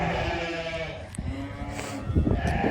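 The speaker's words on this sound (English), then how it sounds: "Look at them eating. Look at that sheep right there." Sheep bleat while eating at feeding time on a farm, a few short nearby calls over a steady background of chewing and rustling, with a louder burst of movement near the end.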